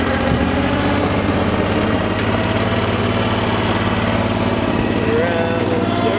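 A Power Trac compact tractor's engine runs at a steady idle close by, with a continuous low rumbling drone and mechanical vibration that holds level throughout.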